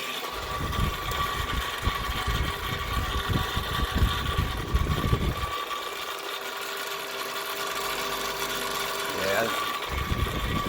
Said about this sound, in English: Yeah, this motor could be just too far gone.